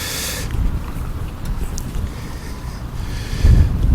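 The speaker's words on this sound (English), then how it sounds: "Hopefully this little wind muff on the mic is doing a good job and stopping that wind on the microphone." Wind buffets a muffled outdoor microphone in a garden on a windy day, a steady low rumbling roar that swells louder near the end.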